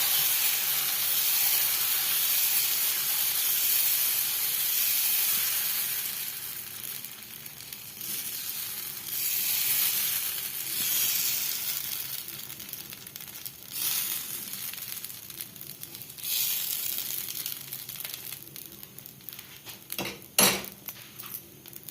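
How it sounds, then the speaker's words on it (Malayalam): Dosa batter spread on a hot griddle for Kerala-style masala dosa sizzles and hisses steadily and loudly, a broad steamy frying sound with occasional faint clinks of a utensil, fading somewhat toward the end. "നമ്മളിപ്പോൾ ദോശക്കല്ല് ചൂടായിട്ടുണ്ടേ, അതിലേക്ക് മാവൊഴിച്ച് നന്നായിട്ട് കലക്കിയിടും."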